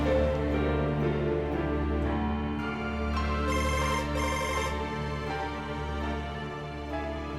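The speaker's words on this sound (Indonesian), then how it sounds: "Gue harus telepon Ardi." A telephone rings repeatedly in a steady electronic pattern, moderately loud, with a brighter trill pulsing partway through and no talking.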